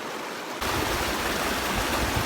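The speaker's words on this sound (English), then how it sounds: "That water is moving really fast." Fast-moving creek water rushes loudly in the wilderness, a dense, continuous roar that jumps up abruptly in strength after a brief quieter moment and then stays steady.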